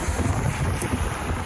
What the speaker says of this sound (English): Today is like a super windy day.